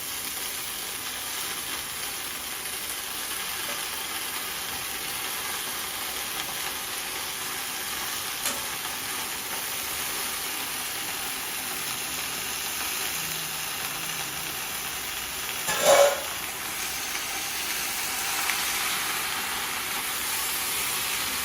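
Gongura (sorrel) greens sautéing in hot oil with garlic and green chilli for a thokku, a steady soft sizzle and hiss running throughout, with one brief louder clatter near the end.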